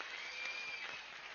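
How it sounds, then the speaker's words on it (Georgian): Applause from an audience in a hall after a musical sketch, a steady crowd clatter at low level, with a faint sustained tone running beneath it. "კარგი აპლოდისმენტები"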